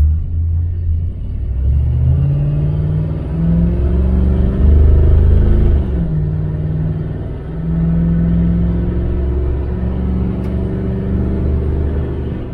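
A 1978 El Camino SS accelerating on the road, not fully floored, with a stiff carburetor return spring, on its first drive in 20 years. The engine gives a loud, continuous rumble heard close from inside, rising and dipping slightly.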